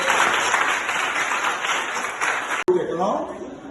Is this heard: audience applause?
yes